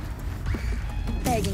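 A horse whinnies near the end in the game Horizon Zero Dawn, rising and bright over muffled background noise and voices talking.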